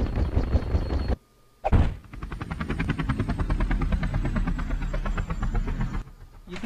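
Helicopter rotor thumps chop in a rapid, steady rhythm from a video game, loud and close, briefly cut by a short gap before resuming.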